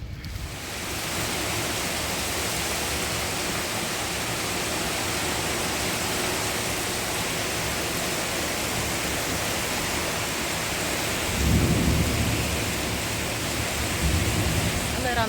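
Steady, dense roar of heavy rain pouring continuously at Mogren Beach in Budva, Montenegro, with a low rumble of distant thunder swelling briefly near the end.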